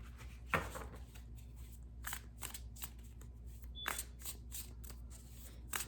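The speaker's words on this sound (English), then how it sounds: "I'm going to shuffle these and see what else comes through from the light deck" Tarot cards from a light deck are shuffled by hand, a series of quick papery riffles and snaps at close range with a short beep partway through, no talking.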